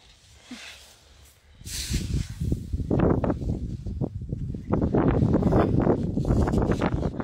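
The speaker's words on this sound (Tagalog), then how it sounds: "Ang lakas ng hangin." Strong, very cold wind in Armenia buffets the microphone in loud, gusty bursts, building after a quieter start and roaring steadily near the end, with rustling mixed in.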